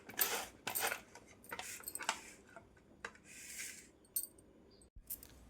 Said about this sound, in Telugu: మామిడికాయ మొత్తం ఇలా తురుముకోవాలి.